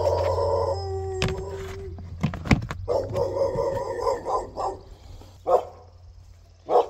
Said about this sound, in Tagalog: Masyado maingay yung aso ng kapitbahay natin.